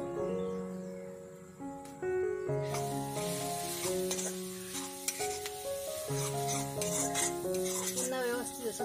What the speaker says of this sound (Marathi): पुन्हा व्यवस्थित असं परतून घेऊ.